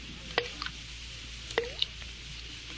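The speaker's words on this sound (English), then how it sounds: "I'm sure the faucet is dripping" Water drips from a bathroom faucet at night: a few distinct, fairly close drops, each a sharp plink with a short falling tail, spaced irregularly about a second apart over a faint steady room hum.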